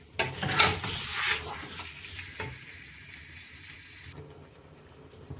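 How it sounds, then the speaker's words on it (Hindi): Mutton pieces fry in a pot for yakhni pulao: a loud, bright sizzle bursts for the first couple of seconds, then settles into a quieter, steady hiss close by. "अब इसको मैं फ्राई करती हूँ"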